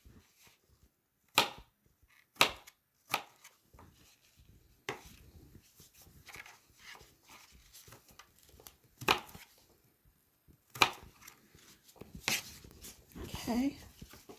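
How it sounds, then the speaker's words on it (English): A knife chops cucumbers in halves on a board, giving a series of sharp, irregular cutting knocks, some loud and close, with quieter handling sounds between. "I'm just going to go ahead and cut up my cucumbers"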